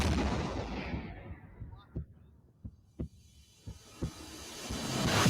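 Explosions and gunfire from a Nicolas Cage action movie play back: a big boom fades away, then several dull, separated thumps follow before the noise swells again.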